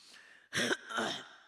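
An elderly preacher gives a short throat-clearing cough, two rough bursts close together in a quiet room, near and fairly soft.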